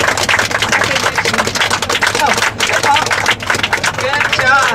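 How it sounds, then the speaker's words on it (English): Pilgrims at Tule Lake clap for climbers who reached the top of Castle Rock, with brisk scattered outdoor clapping mixed with chatter and voices talking throughout. "Also also deserve a big round of applause for making it all the way to the top."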